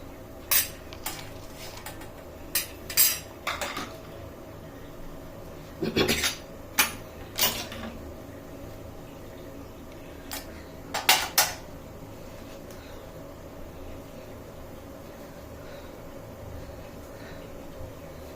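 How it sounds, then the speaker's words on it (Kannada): Rice is washed by hand in a metal pot while mint rice cooks, giving scattered clinks, scrapes and knocks at irregular intervals over a quiet kitchen background, with no talking. "ಅಕ್ಕಿನ ತೊಳಿತಾ ಇದ್ದೀನಿ"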